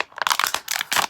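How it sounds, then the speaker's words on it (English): A plastic bottle being cut roughly in half with a pair of scissors while making a simple funnel; a few close, crisp snipping and crinkling bursts come in quick succession, with no talk. "Cut the bottle about halfway,"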